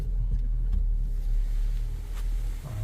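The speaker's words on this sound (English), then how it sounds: "Now let's test the comfort and pedal to the metal action on the Lincoln Aviator." Inside a Lincoln Aviator under full-throttle acceleration, a low engine rumble and road noise build steadily and fill the cabin, with no talking.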